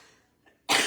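A single short, loud throat-clearing burst near the microphone, following a brief quiet pause.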